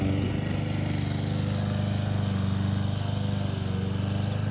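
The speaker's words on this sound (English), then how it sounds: "This is a big, big lawn to mow." A lawn mower engine runs steadily and loudly close by, with a constant droning hum and no pauses while it cuts a large lawn.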